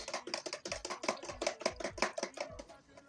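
A yogurt mixture with sweetened condensed milk being stirred in a bowl, a quick, even rhythm of soft wet scraping and tapping strokes, close and faint.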